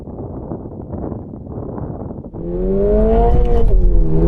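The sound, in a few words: Toyota car drag race launch with wheel spin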